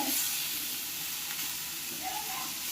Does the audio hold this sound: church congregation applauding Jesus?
no